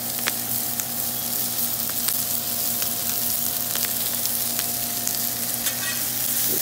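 Onions fry in a pan for an Asian-style beef dish, giving an even, continuous sizzle with fine crackle and a faint steady hum underneath.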